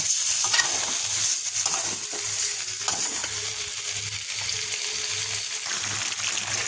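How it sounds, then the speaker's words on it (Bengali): Pangas fish curry stir-fried in oil in a pan gives a steady close hiss and sizzle, broken by soft scraping strokes of a spatula, with a low hum underneath. "আস্তে তালে কষিয়ে নেব"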